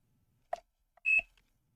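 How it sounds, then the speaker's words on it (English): A multimeter in continuity mode gives a short, clear electronic beep while probing a MacBook Air 2015/2017 logic board for a short circuit. A brief click comes first, then a single steady tone of about a tenth of a second, close and isolated. "if I test it in continuity, it will beep"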